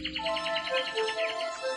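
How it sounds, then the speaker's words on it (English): Birds sing as a sound effect in a fairy-tale audiobook, rapid bright chirps and tweets repeating in quick succession, close and clear, with no narration over them. "And can you hear the birds singing?"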